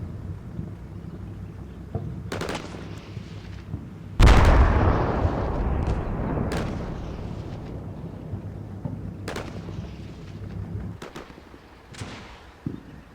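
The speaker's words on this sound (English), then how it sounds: "Still taking sporadic fire though." Sporadic gunfire and one heavier blast in the combat video game Combat Mission Shock Force, scattered distant sharp cracks with a rumbling explosion and its long decay, no voices.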